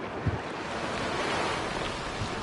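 Steady rushing water and spray from a splash-down on a theme-park ride, broad and continuous like surf, with faint wind buffeting the microphone.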